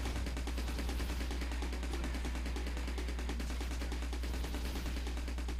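Rapid gunfire from a ship's weapon during a boss fight in the side-scrolling shooter game Steredenn, a dense, continuous stream of loud repeating shots with no pauses.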